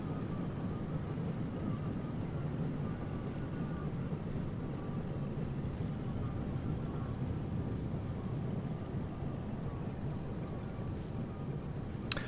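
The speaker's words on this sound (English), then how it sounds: "So you can see we're on approach here and just about to land." Simulated CRJ 700 airliner on landing approach, its steady engine drone running continuously and evenly at moderate level with no talk.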